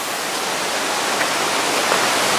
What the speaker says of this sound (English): Looking at the beautiful creek on this side.